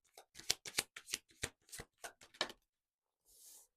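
Tarot cards being shuffled by hand in a rapid series of crisp riffling and slapping bursts for about two and a half seconds, followed by a short pause and a soft card swish near the end.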